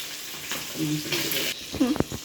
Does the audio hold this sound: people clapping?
no